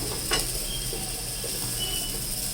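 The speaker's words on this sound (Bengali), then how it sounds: "আলুটা লাল লাল করে ভাজা হয়ে গেছে অলমোস্ট এবার আলুটা তুলে নেব" Potatoes frying in oil for a thin mutton curry, a steady dense sizzle with a few soft stirring scrapes close by, no voices.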